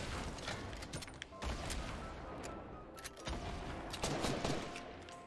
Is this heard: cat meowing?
no